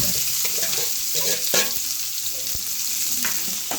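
Chopped onions sizzle and crackle in hot oil, a steady frying hiss with occasional pops and the scrape of stirring.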